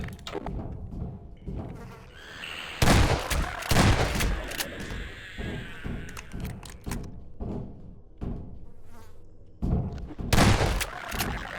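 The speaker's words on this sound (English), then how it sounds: "firing a shotgun" A shotgun blasts inside an enclosed space in Half-Life 2, loud booming shots with echoing tails repeating at irregular intervals amid clatter and other combat noise.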